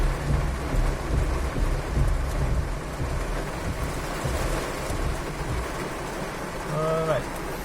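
Heavy rain pounds a Honda Brio RS from inside the cabin while the wipers run at full speed, a steady loud roar with low thumps throughout; a brief voice sounds near the end.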